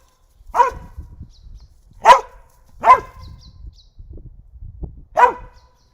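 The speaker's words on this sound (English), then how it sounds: "for those of you who've never heard him bark, there you go" A dog barks at a bushcraft tent camp, four sharp, nearby barks spaced a second or so apart, with soft rustling and low sounds between them.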